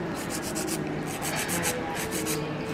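Nail file rubbing back and forth across fingernails at a nail salon, shaping them into a coffin shape, a close, steady rasping in quick repeated strokes with brief pauses between bursts.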